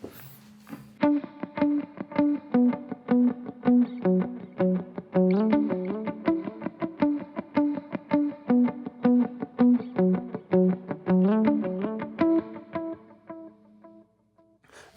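Electric guitar with reverb and delay on repeats a simple picked pattern. The notes ring and smear into one another, moderately loud and steady, after a brief noise at the start, with no talking.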